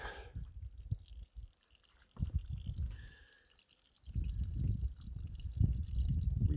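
Spring water trickling through a trekking pole used as a makeshift pipe on a mountain trail, a soft, uneven dribbling and dripping that swells in bursts, close and quiet with no voices.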